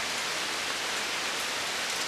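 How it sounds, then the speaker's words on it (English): Steady rain falls in October, heard from a porch, a dense even hiss of drops with no let-up and no voices. "it's raining again"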